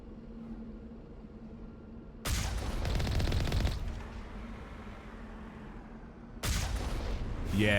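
Video game gunfire erupts in two loud automatic bursts, a sustained volley of rapid shots followed after a pause by another burst, over a low background hum.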